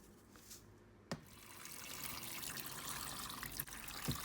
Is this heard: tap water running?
yes